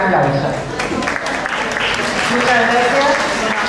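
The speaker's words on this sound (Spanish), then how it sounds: "la recibimos con un gran aplauso." An audience at a medical aesthetics congress applauds, a dense wash of clapping filling the room for a few seconds, with voices mixed in.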